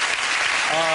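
Studio audience applause on a TV talk show, a dense, steady wash of clapping filling the whole second, with a faint voice surfacing near the end.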